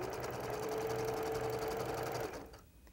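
Home sewing machine stitching a lap quilt, a steady close whirring run that holds for over two seconds and then stops, with no speech.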